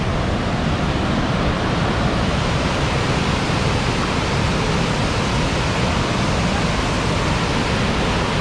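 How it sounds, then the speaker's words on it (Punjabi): Water rushes steadily at a river headworks, a dense, loud, unbroken roar that stays even throughout with no other sounds standing out. "ਬਹੁਤ ਪਾਣੀ ਚੱਲਦਾ ਹੈ ਜੀ,"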